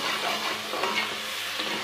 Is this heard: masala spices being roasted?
yes